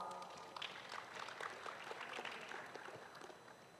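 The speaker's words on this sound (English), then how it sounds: "So let's welcome them with a big round of applause." Soft, distant applause in a grand ballroom as panelists are welcomed on stage at a world health city forum, a steady diffuse patter of many hands at low volume.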